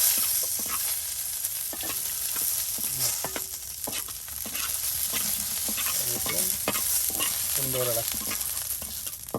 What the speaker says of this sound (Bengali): আপনারা এইভাবে দেখুন কিভাবে শুকনা মরিচ ভাজতে হয়।